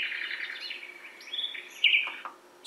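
A BuffBee white noise sound machine plays a forest setting: bright chirping and tweeting birdsong, soft and close, in short overlapping phrases.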